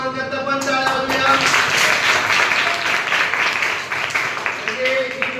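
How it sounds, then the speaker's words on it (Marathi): A classroom of students claps together during a spelling word-chain activity, a steady wash of applause lasting several seconds before tapering off. "आपण दोघांकरता पण टाळ्या वाजवूया"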